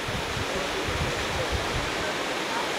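A waterfall near Kjerabolten in Norway gives a steady, broadband rushing roar, constant and fairly loud, with faint low rumble and no clear talk.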